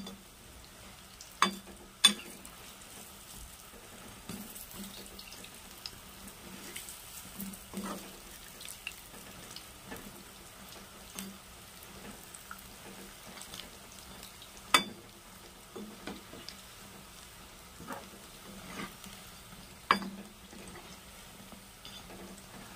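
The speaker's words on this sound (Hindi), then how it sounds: "तो देखिए गाइस ये अच्छी तरह से फ्राई हो गया है।" Cane dal pakoras frying in hot oil, giving a steady low sizzle with occasional sharp clinks and scrapes of a utensil as the fritters are turned, fairly quiet and without talk.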